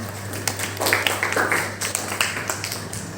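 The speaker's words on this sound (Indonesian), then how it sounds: "Ya, tepuk tangan." Students applauding in a ninth-grade science class, a modest burst of hand clapping over a steady background hum, close and fairly even, with a few faint voices.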